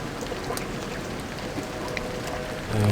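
Continuous rainfall from the video game Deus Ex: Revision, a steady hissing patter with occasional sharper drips, ending as a low tonal hum swells in at the close.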